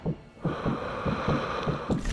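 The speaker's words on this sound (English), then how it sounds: "Why is my heartbeat so high?" Player's heartbeat in the Sniper Elite V2 shooter game, a steady rhythmic low thumping of about six beats under a constant hum, close and fairly loud.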